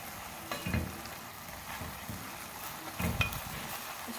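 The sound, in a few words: stirring cooked mutton mince keema in pan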